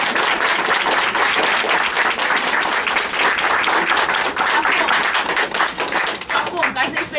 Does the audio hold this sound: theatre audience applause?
yes